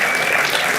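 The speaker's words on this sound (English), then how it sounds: "a big round of applause for Gold Financial" An audience at a charity gala gives a full, dense round of applause, loud and continuous throughout.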